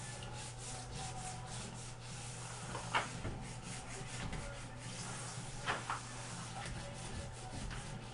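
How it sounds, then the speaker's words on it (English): A plastic scraper rubs wax off the edge of a ski in steady, quiet strokes, with a low hum underneath and a couple of sharper scrapes standing out. "Scrape all the wax that you see."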